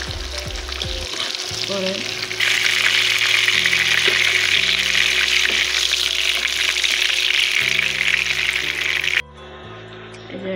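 Pieces of shoal fish fry lightly in hot oil with a loud, steady, close sizzle that swells midway, over low sustained tones, and a voice speaks briefly.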